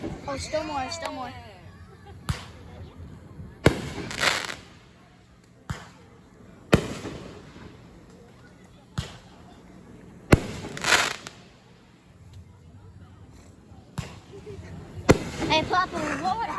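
Fireworks go off in a series of sharp, loud bangs spaced a couple of seconds apart, some followed by crackling bursts, with people talking and reacting in between.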